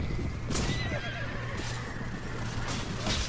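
Horses in a video game neighing with shrill whinnies over continuous galloping hoofbeats, loud and dense throughout the battle scene.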